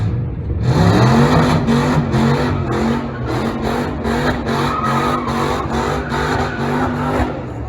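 A rebuilt Toyota Corolla engine fires up on its first start and revs, loud and close, with rising and falling pitch as the throttle is blipped, steady throughout with no talk.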